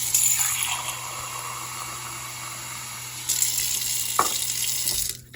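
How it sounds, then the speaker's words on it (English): Tap water runs into a cup, a steady close hiss that rises brighter partway through as the cup fills, ending abruptly. "I'm going to fill this guy up with water"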